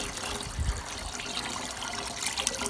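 Water trickles and drips steadily from a wet sheep fleece as it is lifted out of a washing basin, a soft continuous splashing close by.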